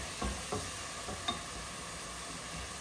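Onions fry in a pan for a Bangladeshi home-cooked dish: a quiet, steady sizzle with a few soft knocks of stirring.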